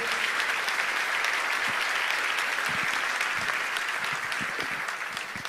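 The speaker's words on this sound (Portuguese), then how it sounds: "E você aplaude o Senhor mais uma vez." Sustained applause from a church congregation, a thick continuous roar of many hands that holds steady and then begins to fade slightly toward the end.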